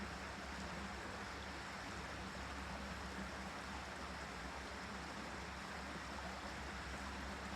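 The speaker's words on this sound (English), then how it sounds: "I hope that the waterfall is not too loud or it drowns out the volume here." A river waterfall roars in a constant, even rush of white noise, unbroken and steady throughout at a moderate, distant-sounding level.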